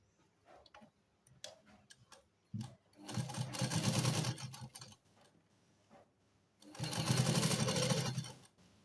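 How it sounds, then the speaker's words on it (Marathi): A sewing machine stitches the neckline of a simple kurti, running in two strong whirring bursts with light mechanical ticks and fabric handling between them, close up and without talk. "आणि गळा उलटवून शिवून घ्यायचा आहे"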